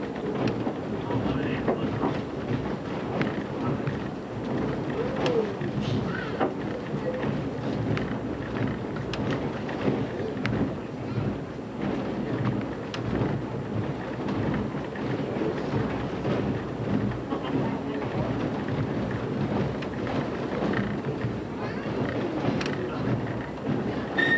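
A train running on rails in New England, passing a river and a gravel pit; a steady, continuous rumble with faint clanks and wind buffeting the microphone throughout, with no pauses.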